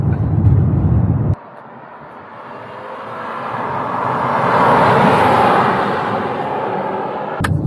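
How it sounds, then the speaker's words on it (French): A 2018 Audi A7 55 TFSI accelerates from inside the cabin, the engine and road roar swelling to a broad peak and then easing off. "ils vont prendre quelques petits jets d'accélération"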